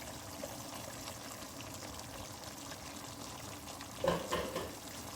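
Quiet, steady sizzling of pork menudo in a pan, then a sudden louder hiss and spatter as tomatoes are dropped in, settling back to a gentle fry.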